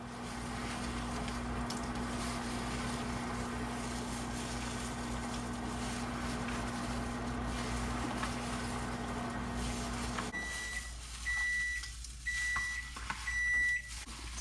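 Four short electronic beeps sound at an even pace near the end, after a steady humming drone cuts off.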